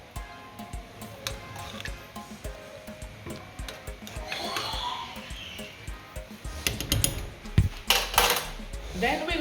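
Jamaican cornmeal porridge is stirred in a pot, the spoon clinking and scraping against the sides in irregular strokes, quiet at first and growing louder with sharper knocks toward the end.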